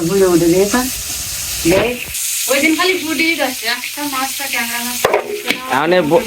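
Small puti fish fry in a pan as they are stirred, a bright crackling sizzle running continuously beneath voices talking nearby.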